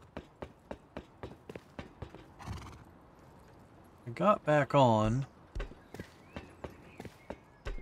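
Horse hooves clip-clop in a steady run of taps in the survival game Rust, with a loud neigh or whinny in the middle and someone talking briefly over it.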